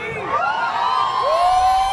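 Crowd at a political rally shouting together in sustained, loud, overlapping voices with whoops rising above the din, continuous and close throughout.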